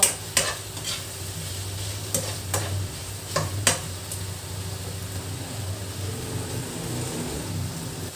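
A tomato mixture being pressed and stirred in a pan, heard as a low continuous sizzle with a few sharp clicks of the utensil against the pan, close and without talk.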